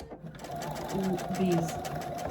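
A sewing machine stitching a quilt project over pins and lumpy seams, a fast close rhythmic whirring hum that rises and falls in pitch, with someone speaking over it.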